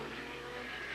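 A 1988 IMSA GTO or GTU race car at Sears Point runs down pit lane with a steady, loud engine roar and no letup across the brief moment.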